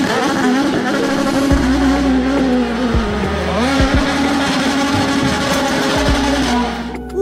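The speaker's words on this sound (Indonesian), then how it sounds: "di sini ada mobil sedan balap." A toy racing sedan car plays a loud, steady electronic engine drone with rising and falling revving tones and brief squeal-like sweeps, close and continuous.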